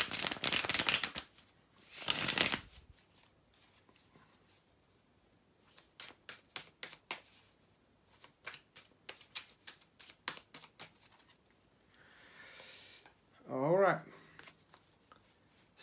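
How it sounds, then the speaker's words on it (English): Tarot cards are shuffled by hand in quick bursts of crisp riffling and soft flicking, separated by short quiet gaps. The sound is close and fairly faint, and a brief voice-like sound cuts in near the end. "bear with me a couple of seconds, guys, to shuffle the tarot cards"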